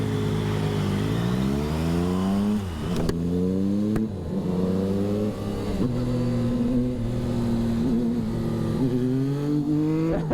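A Triumph Daytona 660 motorcycle accelerates hard, its engine note climbing through rising revs with brief dips at the gear changes, loud and close with no talk.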